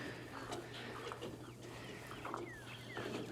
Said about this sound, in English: Here they come with the first load of birds.